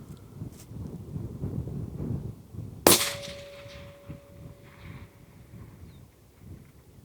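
A single sharp rifle shot from a Bergara B14 HMR chambered in 6.5 Creedmoor, fired outdoors at long range, with a ringing tail after the crack over a background of wind noise.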